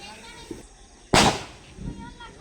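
A single loud firecracker bang during Diwali celebrations, sharp and broadband with a short decaying tail, set against quieter ambient background noise.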